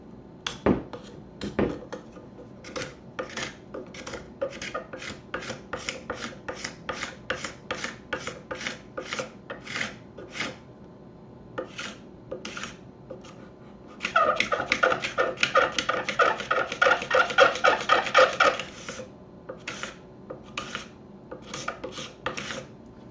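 A scraper used as a finishing tool while adding pearl inlay side markers, rasping in quick repeated strokes close by, with a denser, louder burst of rapid rubbing midway before the steady strokes resume.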